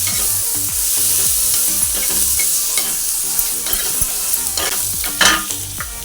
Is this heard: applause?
no